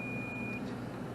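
A multimeter's continuity beep while testing the wires of a RIB relay switch on an air handler: one steady, sustained electronic tone lasting about half a second, fairly clear over a low background hum.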